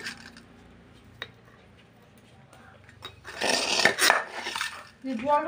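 A knife chops banana flower on a board for mocha makha, a few sparse taps followed by a denser run of close cutting and scraping clatter, with brief voices near the end.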